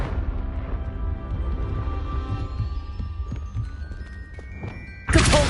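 Confringo spell cast in Hogwarts Legacy: a low throbbing, humming thunk with tonal magical overtones that fades, then a sudden loud bright burst at the end.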